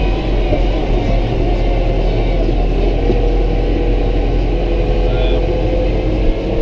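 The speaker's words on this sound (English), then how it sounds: "I do have it in auto shift mode, so I'm letting the tractor take care of shifting the gears" Tractor engine running steadily while mowing a steep slope, a continuous low rumbling drone with a mechanical hum that stays close and loud throughout, with no talk over it.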